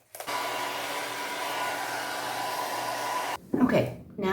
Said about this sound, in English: I'm going to help it along by blow drying it